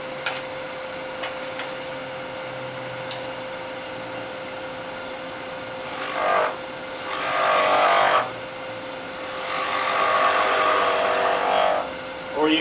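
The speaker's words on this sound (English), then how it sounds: "square off the end, and you can do that with the skew." A wood lathe hums in the background, then a skew chisel bites into the spinning wood, squaring off the end in two long, loud scraping bursts with brief pauses between.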